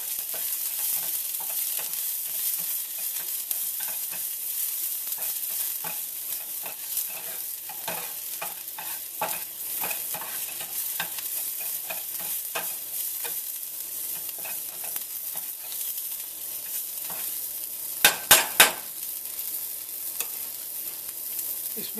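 Spinach (palak) frying in a small amount of oil in a pan for raita, a steady close sizzle with frequent stirring scrapes and a few sharp clatters near the end, no voices.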